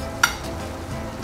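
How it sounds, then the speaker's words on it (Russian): Butter and honey heating in a hot frying pan over high flame give a steady, soft sizzle and crackle, with a single brief metallic clink of a utensil near the start. "На сильном огне мед с маслом карамелизируется, и все."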